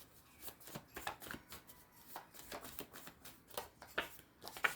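Tarot cards shuffled and drawn during a reading, a quick series of soft papery riffles and flicks that come close and fairly quiet, with a few sharper snaps near the end.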